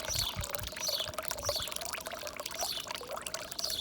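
Warm water pours from a garden hose in a steady, fairly quiet stream, splashing and trickling continuously with no talk.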